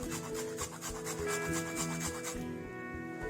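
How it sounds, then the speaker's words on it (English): Deep-frozen mandarin orange zest grated against a metal grater for an orange cake, a run of close, even rasping strokes in quick rhythm, with no voices. "So they become really hard and it gets easy to grate their zest."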